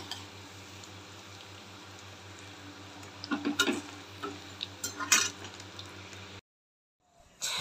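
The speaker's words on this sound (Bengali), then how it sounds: "এখন পেঁয়াজ ভাজছি" Onions fry in a pan for a home-cooked meal: a steady low sizzle with scattered spoon clinks and stirring scrapes, then a sudden drop to near silence before a brief return of noise at the end.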